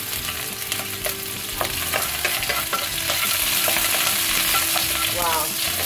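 Shallots and ginger stir-frying in a hot wok for Sichuan braised eggplant, with a steady loud sizzle and intermittent clinks of a spatula against the pan. No one speaks.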